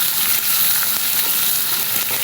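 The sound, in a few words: onion and tomato frying in pan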